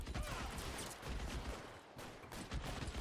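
A sustained volley of gunshots from L.A. Noire, repeated cracks and booms rolling almost continuously for a few seconds, loud and unbroken with no voice over them.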